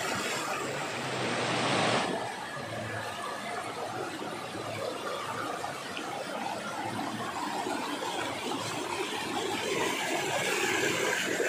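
A swollen river surges after a flash flood along the Cikembang river in Subang, a once-small channel now broad and fast, its steady loud roar of rushing water filling the whole stretch with a brief gustier burst at the start.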